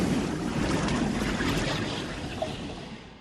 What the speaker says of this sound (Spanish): muro de agua atraviesa Miami como una bola de demolición